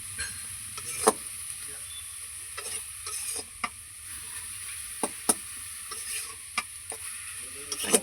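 Eggplant is stirred into greens frying in a pan, with repeated scraping and knocking strokes of the spoon over a soft, continuous sizzle.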